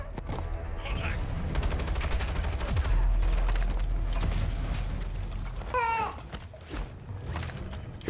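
Gunfire in the video game Call of Duty MWII: dense rapid bursts of automatic fire under a rumbling game soundscape, with mechanical clanks and a brief squeaky sound, moderately loud throughout.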